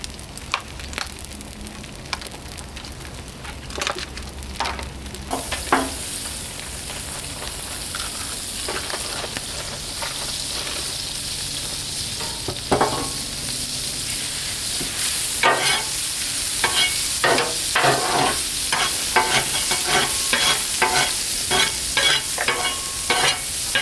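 Crunchwraps fry in melted butter on a Blackstone griddle, a steady close sizzle with scraping and stirring that grows busier and louder in the second half.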